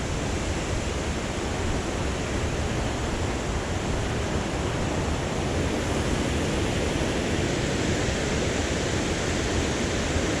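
Rocky Brook Falls on the Dosewallips River Trail roars as a loud, constant, broadband rush of falling water, unbroken throughout with no voices.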